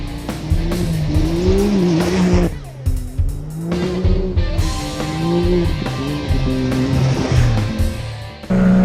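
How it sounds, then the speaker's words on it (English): UTV race vehicles roar past on an Arizona racing outing, their loud engines revving up and down in rising and falling sweeps with brief tire squeal. The engine noise is close and strong, with a short dip before it surges again. "The roar of these cars."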